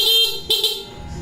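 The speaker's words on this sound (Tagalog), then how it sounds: "Tignan ang busina." A Suzuki Smash motorcycle horn beeps three times in quick succession, close and sharp, the last two toots short and clipped over a low engine hum.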